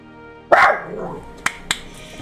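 A dog barks once loudly at close range, followed by two short sharp clicks, in a quiet indoor room.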